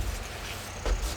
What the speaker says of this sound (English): There's a big truck out here.